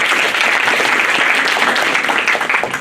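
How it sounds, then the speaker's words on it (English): An audience claps for panelists at a college living wage panel, a dense, steady round of applause filling the whole stretch at close range with no pause. "a round of applause for our panelists."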